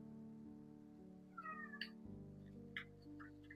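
A pet cat meows a few times indoors, short tonal cries standing out over a constant low hum, each call brief and fairly close.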